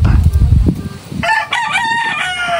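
A rooster crows loudly and fairly close, a drawn-out call that fills the second half after a stretch of low rumbling noise.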